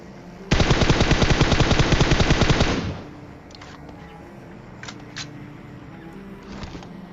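An AKM rifle in the battle royale game PUBG fires a rapid sustained full-auto burst for about two seconds, loud and close, followed by a few faint distant shots.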